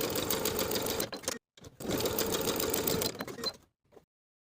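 A sewing machine stitches a facing to a cardigan front edge in two fast running bursts with a brief pause between them, close and clear, ending with a short extra whir.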